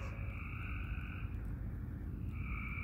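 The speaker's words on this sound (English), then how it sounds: "Those are the bullfrogs." Bullfrogs croak outdoors in a continuous, droning chorus, faint and far off, with no voices over them.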